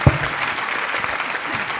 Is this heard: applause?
yes